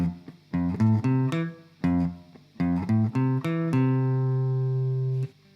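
Both parts of a guitar riff played together on electric guitar: quick rhythmic runs of plucked notes in repeated phrases, finishing on a long sustained ringing note, near and alone without talk.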